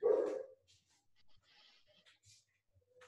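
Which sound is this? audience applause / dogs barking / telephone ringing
dogs barking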